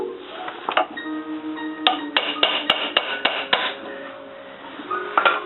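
Hammer taps loosening a control arm bushing on an Acura Integra front suspension, a series of sharp metallic strikes, several in quick succession, close and fairly loud with a ringing tone between hits.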